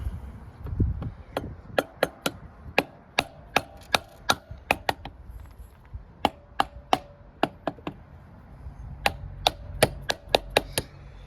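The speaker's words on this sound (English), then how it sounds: "Little bit of a smack with a vinyl hammer." A vinyl hammer strikes metal on a Honda CB400 Four motorcycle under restoration, sharp loud knocks repeating in irregular bursts, a couple of dozen hard taps close by with short pauses between groups.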